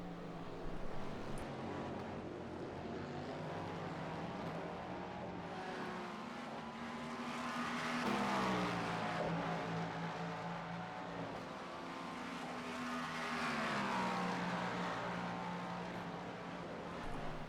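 IMSA race car engines in a racing video game hold a continuous, loud drone, with pitch sweeping up and down as the cars accelerate and brake through corners.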